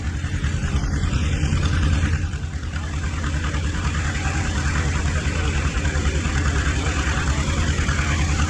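A 1948 Allis-Chalmers Model C tractor rolls by in a threshing show parade, its engine chugging steadily at a low idle, with voices talking over it throughout.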